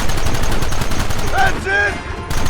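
A loud volley of gunfire in Red Dead Redemption crackles as a steady stream of overlapping shots, and a voice speaks briefly over the din.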